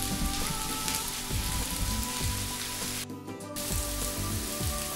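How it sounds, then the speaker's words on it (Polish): Onion frying in a pan over high gas heat, a dense steady sizzle and crackle with scattered pops and low thumps throughout, close and continuous. "I tu na większym gazie muszę cebulkę jeszcze dosmażyć, żeby była bardziej rumiana."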